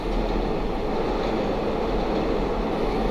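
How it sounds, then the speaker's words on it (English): A train rolls past with a loud, continuous broadband rumble and rail noise, steady and close throughout, with no voices. "The train came at the perfect time."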